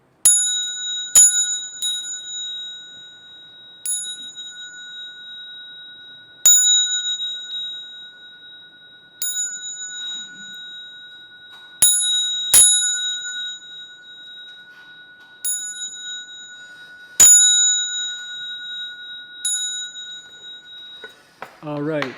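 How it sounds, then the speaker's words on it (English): A small bell in a Buddhist ceremony, rung a dozen or so times at uneven intervals, each strike a clear ringing tone that decays slowly, close and alone with no talk. "I'll ring the bell."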